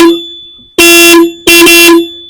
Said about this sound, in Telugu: ఇక్కడ చిన్నది హార్న్ ఉంది ఒకసారి కొట్టు